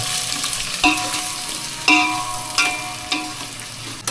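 Chopped onions browning in oil in a pan, a spatula clacking against the metal every second or so over a constant close sizzle, with no talk.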